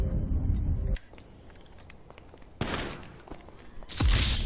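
Short bursts of gunfire in Grand Theft Auto V, a sharp shot sequence at the start followed by quieter scattered cracks and two more loud bursts near the end, with no talking.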